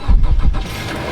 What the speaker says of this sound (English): start the engine. It's a 4-stroke engine